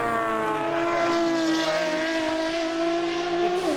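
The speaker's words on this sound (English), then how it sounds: "Chat, how do you feel about car engine ASMR?" An engine revs and holds a throaty, harmonic roar, its pitch dipping slightly then climbing again, steady and fairly close.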